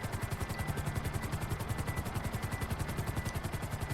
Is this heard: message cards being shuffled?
no